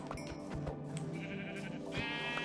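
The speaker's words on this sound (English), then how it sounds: "Sheep!" A Minecraft sheep gives a short nasal bleat amid a busy game soundscape, followed by a brighter bleat near the end of the brief stretch. No one speaks.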